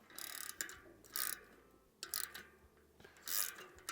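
A Campagnolo 17mm flat spanner works bike parts on a Raleigh Maverick Pro restoration, giving several short, faint scraping and ratcheting strokes separated by quiet gaps.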